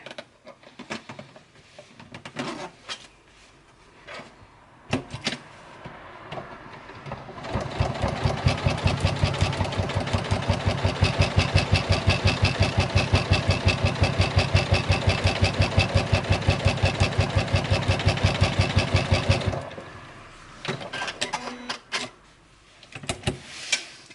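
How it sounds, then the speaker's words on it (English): A sewing machine top stitches a make-up bag at 3.5 stitch length, running in a loud, fast, steady mechanical whir for about twelve seconds, framed by quieter handling clicks before and after, with no talk. "Right, so now I've top stitched both of those, as you can see, the top stitching."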